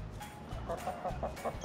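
Backyard flock of chickens kept in a set of three coops, with several soft clucks repeating in a loose rhythm over a steady background hum, moderately near and not loud.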